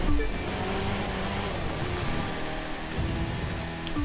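A muscle car in the racing game The Crew 2 drifting and firing its nitro boost, a steady, fairly faint engine drone with pitch shifts as it revs and slides, and no voices over it.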